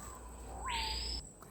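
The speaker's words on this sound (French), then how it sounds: "mon ami l'oiseau que je n'ai jamais vu en fait. Qui est juste au-dessus de ma tête certainement, mais il fait du bruit celui-là." Overhead in a French Guiana forest, a bird gives one loud, rising, buzzy call held for about half a second against a steady hum of insects.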